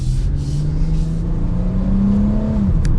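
A 2022 Dodge Challenger SXT with a V6 accelerates while merging into traffic, its engine note climbing steadily in a loud, continuous drone heard from inside the car.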